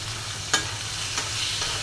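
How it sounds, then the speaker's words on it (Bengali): Small shrimp frying in a hot pan, a close, constant sizzle with one or two brief scraping stirs of a spatula, no voices present. "চিংড়ি মাছটা ভেজে দেব"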